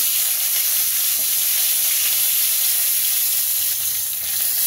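Curry leaves hit hot oil for a cauliflower masala curry, giving a loud, steady, close-up sizzle and hiss that stays unbroken throughout with no talk.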